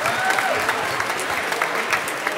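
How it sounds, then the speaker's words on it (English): Sustained applause from the audience at a Christmas concert: dense, even clapping from a large crowd that fills the whole moment at a steady, fairly loud level. "give these folks a round of applause for their contributions this evening"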